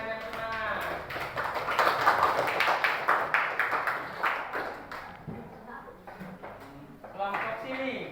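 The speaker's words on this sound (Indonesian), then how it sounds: "Kasih tepuk tangan yang semangat." A classroom group in an Islamic religious education lesson giving a burst of enthusiastic clapping, loud and close at first, then thinning into scattered claps before a brief final flurry.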